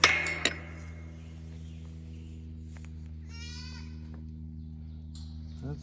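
Goats on a farm bleat at morning feeding time. A few faint, wavering bleats rise over a quiet steady hum, and there is a brief clink near the start.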